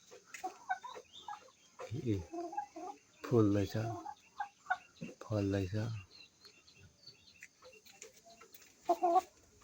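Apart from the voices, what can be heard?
local chickens, hens and roosters clucking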